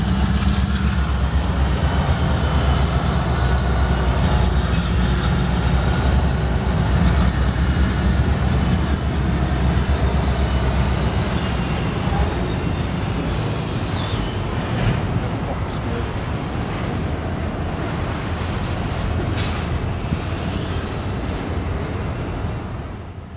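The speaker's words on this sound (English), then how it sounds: "First up is a westbound intermodal I would presume to be 21T, although I'm not certain." A westbound intermodal freight train with an SD70M-2 locomotive rumbles out of a rail yard, a loud, steady low roar of engines and rolling cars that slowly fades, with faint wheel squeals near the end.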